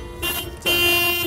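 A car horn blares twice in traffic: a short blast followed by a longer, steadier honk, loud and close with nothing else over it.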